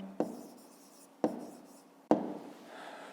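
Pen strokes on paper while a maths exercise is written out, three sharp taps or scratches spaced about a second apart over a low hum, close and quiet with no talking.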